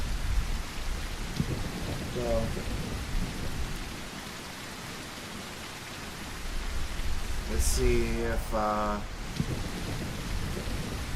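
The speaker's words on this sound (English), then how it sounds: "it's like there's a storm brewing out there" Rain and a thunderstorm in a dinosaur video game, a steady hiss of falling rain with low rumbling beneath, while a voice speaks briefly over it.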